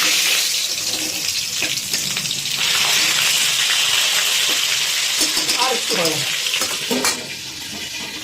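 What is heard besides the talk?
pangas fish pieces frying and spattering in hot oil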